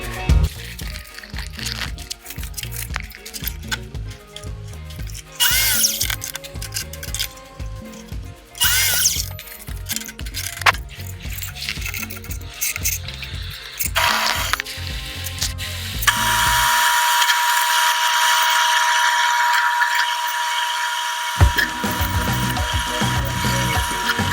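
A length of black aluminum extrusion is worked with a power tool, starting with ratcheting clicks and intermittent bursts, then a loud, sustained high-pitched cutting whine that ends abruptly, all close up without talk.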